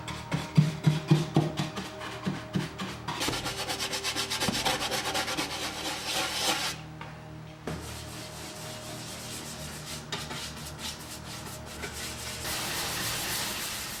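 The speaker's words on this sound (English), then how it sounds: "I'll use a wax brush and fine steel wool to apply several coats of clear wax to this entire dresser." Steel wool and a wax brush rub clear wax onto a 1960s mid-century wooden dresser, producing steady close scratchy scrubbing strokes, rhythmic at first and then continuous, with no talking.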